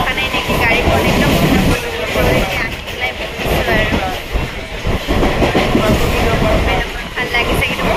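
A nearly empty Mumbai local train runs at speed with a loud, continuous rumble and rhythmic wheel clatter, while a person speaks over the noise.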